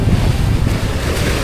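Heavy ocean waves around eight feet high and strong wind roar constantly over a small fishing boat at sea, loud and close with blustering microphone buffeting and no speech.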